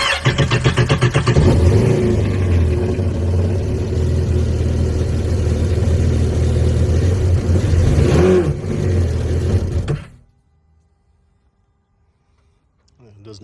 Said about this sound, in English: so you can hear what it sounds like when the supercharger clutch goes out